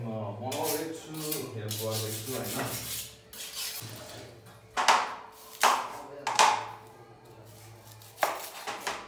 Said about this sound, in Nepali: चक्कुलाई फिजाउनको लागि चाहिँ म त्यहाँ ढुङ्गामा घोट्न जाँदैछु